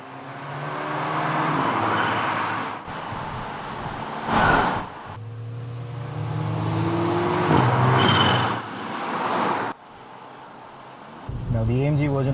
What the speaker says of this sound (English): what you will simply love is the wastegate whistle, which is frequent and sweet enough to give those tuner cars a run for their money.